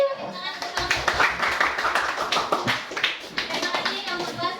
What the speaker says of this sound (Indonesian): Mari kita beri tepuk tangan untuk kelompok.